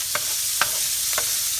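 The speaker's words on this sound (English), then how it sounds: "fried my garlic and my ginger about 30 seconds, I'm throwing in my tofu." Extra firm tofu frying in a pan with garlic and ginger, a steady soft sizzle broken by three brief scraping stirs spaced across the moment, close and alone with no voices.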